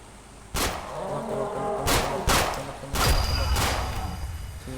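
Video-game gunfire: a handful of loud, broadband shots spaced irregularly, each with a short trailing boom, over a steady game background.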